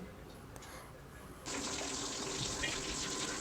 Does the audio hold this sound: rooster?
no